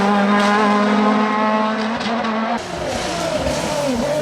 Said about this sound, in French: Latreille et le jeune Belge Corentin Stark, tous au volant de Norma M20